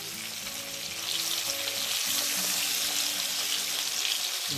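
Sardines frying in a pan without added fat give a steady, close sizzle that grows a little louder after the first second and holds evenly throughout, with no voices.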